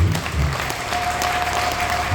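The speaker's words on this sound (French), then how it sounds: "on devait demander aux gens d'applaudir" An audience gives a brief burst of clapping, moderately loud and steady, lasting only a couple of seconds.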